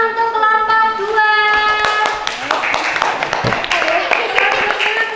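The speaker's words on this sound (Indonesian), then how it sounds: "Tepuk tangan untuk kelompok 2" Primary school children in an Indonesian classroom clap their hands together, a burst of sharp, close claps and taps with a rattling rhythm, mixed with voices and bright tones in the room.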